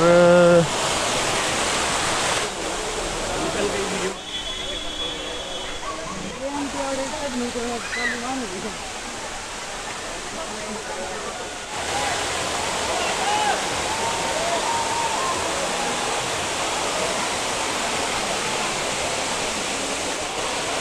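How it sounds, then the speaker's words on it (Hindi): The Neer Garh waterfall near Rishikesh roars continuously as a dense broadband rush, with someone speaking briefly near the start. "Alright, so I have reached नीर झरना"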